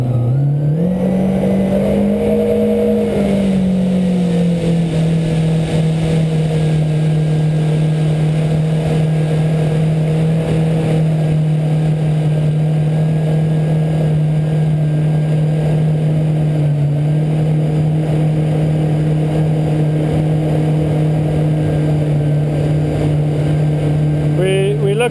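A jet ski engine runs at a steady trawling speed of about 4,500 RPM, a loud continuous drone that holds an even pitch throughout, with talk over it.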